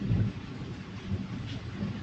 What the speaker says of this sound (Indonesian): cuacanya hujan lebat, guntur petir, menyambar-nyambar.